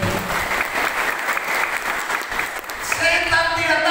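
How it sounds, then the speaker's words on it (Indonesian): A congregation applauding at a church revival service, a dense, continuous clatter of many hands, loud and close, with voices and a hint of music rising near the end. "Beri tepuk tangan terbaik buat kita"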